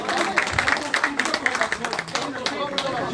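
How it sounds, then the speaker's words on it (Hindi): A crowd at a party gathering claps briefly in welcome, quick distinct handclaps in an irregular burst mixed with chatter and voices over it. "कैप्टन प्रीतम दास, तालियों से स्वागत कीजिए।"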